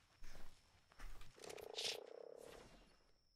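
A frog croaks in the video game Ark: Survival Evolved: a rapid, pulsing, ratchet-like croak lasting about a second, preceded by a few soft thumps and a faint high tone.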